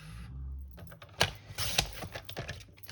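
Card stock being trimmed to size on a paper cutter, heard as a quiet, close run of crisp clicks and slicing scrapes after a brief low rumble, with no voices.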